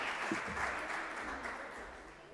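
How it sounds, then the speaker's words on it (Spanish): Applause from a seated audience at a financial inclusion launch event, a steady wash of many hands clapping that stays even and moderately distant before slowly fading. "También le brindamos un aplauso"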